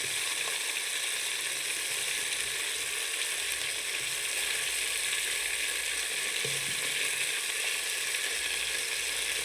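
Fish frying in a rice cooker pot, a steady bright hiss and crackle of hot oil, close and continuous, with no talk.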